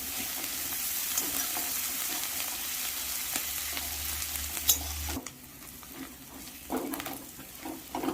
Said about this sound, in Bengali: পেঁয়াজ রসুন মোটামুটি ভাজা হয়ে গেছে।